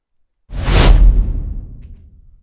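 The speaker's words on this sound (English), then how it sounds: "I've used the same whoosh sound effect again" Whoosh sound effect for a crash zoom video transition: one loud, close swoosh that starts abruptly, peaks quickly and trails off over about two seconds, alone in silence.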